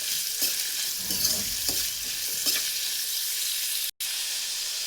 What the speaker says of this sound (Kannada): ಈರುಳ್ಳಿನ ಚೆನ್ನಾಗಿ ಬಣ್ಣ ಚೇಂಜ್ ಆಗೋವರೆಗೂ ಫ್ರೈ ಮಾಡ್ಕೊಳ್ಳಿ.